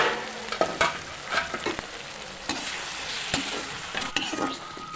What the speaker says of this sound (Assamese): এইফালে মছলাখিনি ভাজা হৈ গ'ল আৰু ইয়াত কেঁচা মছলাকেইটা দি দিম